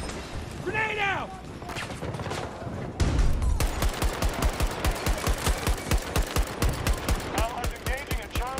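Rapid automatic assault rifle fire in Battlefield 2042 during a 64-player Breakthrough match on Hourglass, a steady loud stream of shots after a brief lull, with voices and battle noise early on.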